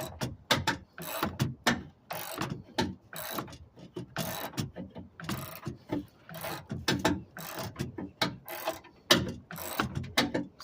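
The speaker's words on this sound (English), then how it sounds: "Keep cranking until it touches the ground." Hand-cranked spare tyre winch under a GMC Canyon pickup, lowering the spare: a steady run of close, loud ratcheting clicks and gear rattles in quick repeated strokes, with no talking.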